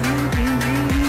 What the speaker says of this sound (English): our Kubota tractor